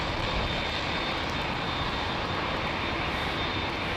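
A Boeing 787 Dreamliner jet roars steadily and loudly near London Heathrow Airport, a broad continuous engine rush with no voices.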